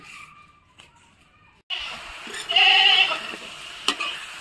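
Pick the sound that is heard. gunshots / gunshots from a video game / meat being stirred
meat being stirred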